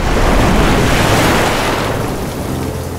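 Loud, steady roar of ocean surf with waves crashing and rushing, a dense wash of noise that eases slightly toward the end.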